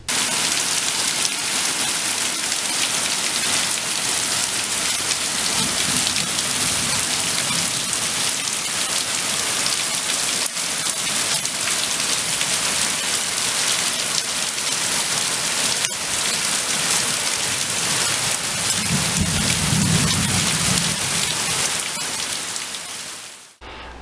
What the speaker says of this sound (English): it was just pouring down rain